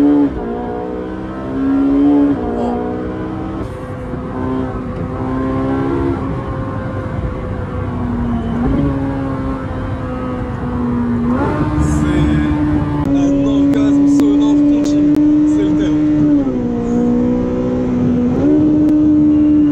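Ferrari sports car engine, either a 458 Speciale or a 488 Pista, revving hard and climbing through the gears with sharp, quick downshifts, loud and close for the whole stretch, each shift stepping the pitch.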